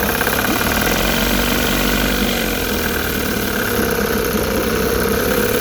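A 1960 Evinrude Fisherman 5.5 hp outboard motor with a test wheel runs steadily and loudly up close in a test tank, a constant rumbling drone with a faint rattling knock, no change in speed and no talking.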